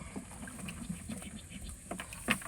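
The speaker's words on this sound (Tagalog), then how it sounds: "Tumatakbo yung bangka." A faint, steady fishing boat motor hums in the distance, low and continuous, with a few light splashes and ambient noise over it.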